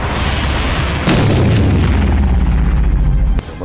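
Iranian missile strike explosions in Tel Aviv: a heavy boom hits, then a long rolling low rumble that sustains and slowly fades, loud and close, ending with a sharp cutoff and a faint crackle.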